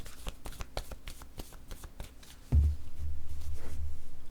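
Tarot cards are handled during a reading, starting with a quick rhythmic riffle of close card flicks, then a single thump as a card is laid down, followed by a low steady rumble.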